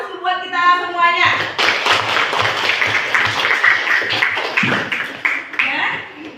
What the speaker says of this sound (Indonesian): Kita berikan aplaus buat kita semuanya.